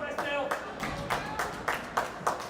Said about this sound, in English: we hear the West Hill fans cheering on their team